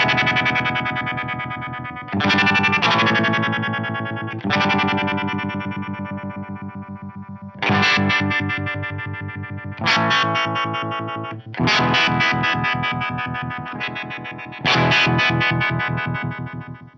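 Sustained, distorted notes are played through a modulation effect with its envelope rate set to 50. About eight struck chords each decay gradually with a swirling, chorus-like wobble, and no one speaks.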